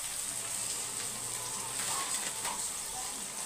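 Onion frying in a pan gives a continuous soft sizzle with faint crackles, close and fairly quiet, steady throughout without speech.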